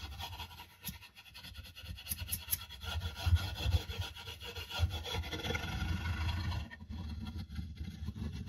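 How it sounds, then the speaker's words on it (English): Beeswax being scraped and pushed into the end grain of a wooden handle, a continuous close rasping and rubbing with uneven strokes and brief pauses, no talking over it. "It's, you're scraping it off, but you're pushing some into the end grain."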